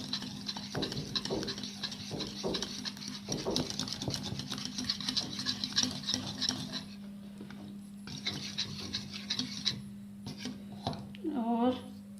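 Eggplant pakora batter with chili, salt and cornflour is stirred and scraped in a bowl, giving a continuous close rasping rub with uneven strokes and a low steady hum underneath.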